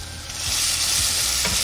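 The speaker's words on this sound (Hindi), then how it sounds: "मसाला तब तक भुनना चाहिए जब तक पैन में वो तेल ना छोड़ने लगे।" Masala spices frying in oil in a pan on low flame, a close, loud, steady sizzle with a few soft stirring scrapes, no voices.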